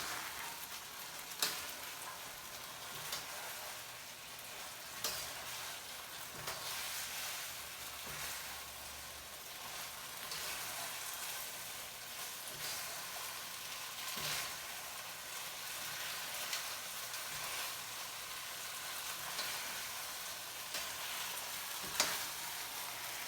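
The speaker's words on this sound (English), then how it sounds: "grab these fancy tongs so that we can get it all blended together" Ground meat and noodles sizzle steadily in a hot pan for a spicy stir-fry, with soft periodic clicks and scrapes from metal tongs tossing everything together; no one speaks.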